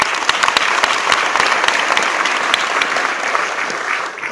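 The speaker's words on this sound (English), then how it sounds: "let's give them another round of applause." An audience at a congressional town hall applauds the Mesa High singers with steady, dense clapping that holds loud throughout, with no voices over it.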